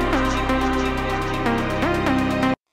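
Original lead synth from the remix, a bright sustained melodic line with pitch glides over a dense full mix, playing continuously for a few seconds before cutting off abruptly.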